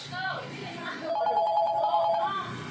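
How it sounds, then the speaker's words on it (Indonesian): A telephone rings with an incoming call, a warbling electronic trill that repeats for over a second, heard under a man's ongoing speech. "Sorry, tadi ada telepon masuk."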